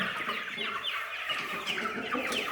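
A flock of 56-day-old chicks clucks and cheeps in a coop in cold weather, many overlapping short calls forming a busy, continuous chatter close by, with no talking.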